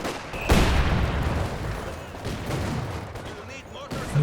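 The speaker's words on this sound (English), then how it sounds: "There's a Vickers suppressing the Volksgrenadiers." Vickers machine gun fire in Company of Heroes 2 during a battle, a dense mix of shots and booms running throughout, with a sharp loud burst near the start.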